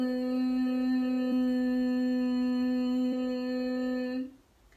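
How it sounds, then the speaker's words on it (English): A steady, loud buzzing hum from the back of the throat during a yoga humming bee breath exhale, held for over four seconds on one pitch, then trailing off at the end of the breath. "It's a loud buzzing noise in the back of your throat."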